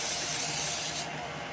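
Baking spray with flour is sprayed onto cake pans in a steady, close aerosol hiss that runs about a second and then tapers off, with no voices.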